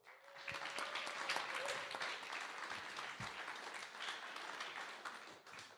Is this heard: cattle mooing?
no